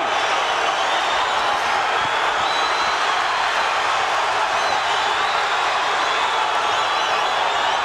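Crowd at a boxing arena cheering and roused during a bantamweight fight, a steady wall of roaring voices and whoops that stays loud and even from start to finish.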